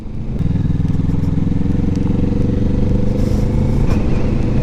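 A 2021 Kawasaki Vulcan S 650 motorcycle rides along around Bournemouth, its engine a loud, steady low throb heard close up from the rider's position, with wind rumble.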